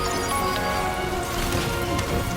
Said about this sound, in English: Rainy.